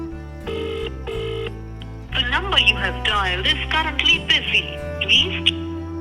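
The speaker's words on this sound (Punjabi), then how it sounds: "ਗਗਨ ਨੂੰ ਮੈਂ ਫੋਨ ਲਾ ਕੇ ਦੇਖਦਾ" A phone ringtone repeats as melodic tones at the start, then continues faintly under emotional talk in Punjabi while a call is placed and goes unanswered.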